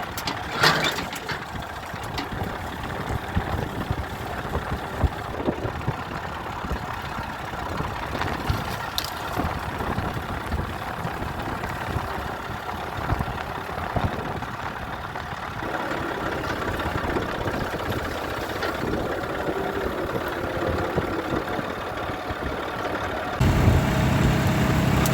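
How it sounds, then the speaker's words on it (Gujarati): A farm tractor runs steadily in a village field, its engine a continuous mid-low drone holding for the whole stretch with little change, and no voices. "તો ચાલો લેતા આવી ટ્રેક્ટર અને ખેંચીએ અભાંગળી."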